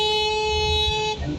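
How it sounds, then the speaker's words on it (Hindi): A single sustained horn from an electric-converted Tata Nano blares loudly and close for about a second, then cuts off into road noise. "इनको कितना भी हॉर्न दो"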